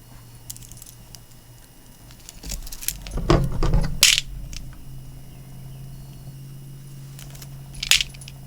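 Eight millimetre ivory gemstone-style glass beads are handled close up: quiet clicks and clinks, then a cluster of louder rattling taps in the middle and a sharp clack near the end, with no talk.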